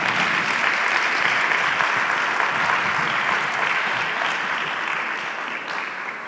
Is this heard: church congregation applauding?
yes